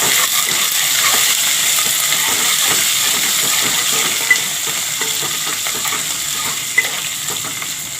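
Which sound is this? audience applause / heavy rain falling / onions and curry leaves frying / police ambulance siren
onions and curry leaves frying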